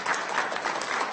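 An audience at a county board of supervisors meeting claps in a short, close, dense burst that lasts about a second.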